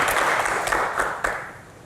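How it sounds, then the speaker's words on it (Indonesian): Audience applause during a doctors' question-and-answer event, a dense burst of clapping that swells briefly and then fades over two seconds. "Tepuk tangan dulu lah untuk kita ini"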